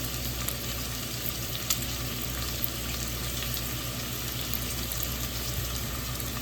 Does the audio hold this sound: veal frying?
yes